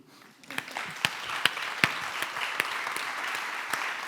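A small audience at a literary talk claps steadily, with a few sharper individual claps standing out. The sound builds quickly from a quiet start and stays moderate throughout.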